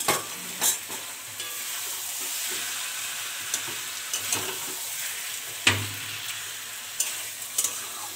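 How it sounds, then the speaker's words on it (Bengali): Chicken sautéed in a pan with spice paste for chicken kosha hisses and crackles loudly and continuously, with scraping stirs and a few sharp utensil knocks, no voices. "তো এখন চিকেনটা দিয়ে বেশ করে কষিয়ে নিচ্ছে মা।"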